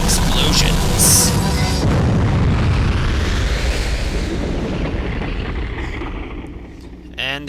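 Explosions in the Castlevania 64 video game: a loud, rumbling blast that decays slowly over several seconds, followed by a short crackle near the end.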